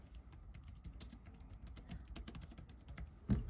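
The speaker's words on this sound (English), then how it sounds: "If I start typing" Someone types on an iPad keyboard in a word processor, producing quick, light, irregular clicks close by and fairly quiet, ending in a slightly louder tap.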